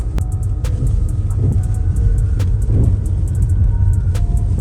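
Car travelling along a forest road, a steady loud rumble of engine and tyres with occasional sharp knocks and clicks throughout, no talk.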